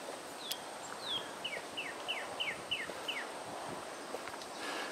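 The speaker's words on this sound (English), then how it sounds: "Can you hear the bird?" A bird repeats a quick series of high, descending chirps, about eight notes in steady rhythm, over a rustling outdoor background.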